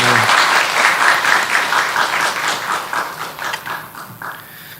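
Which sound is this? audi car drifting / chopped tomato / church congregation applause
church congregation applause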